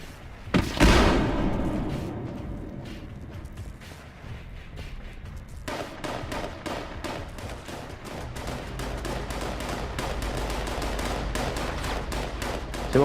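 Dense gunfire erupts in the video game Fallout 76, rapid overlapping shots and booms forming a loud, sustained barrage after an initial heavy blast.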